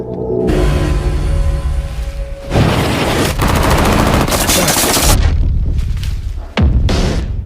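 Sniper rifle fire in a film scene comes as loud, dense bursts of gunshots and booming blasts layered with a heavy soundtrack, and the sound cuts abruptly between shots.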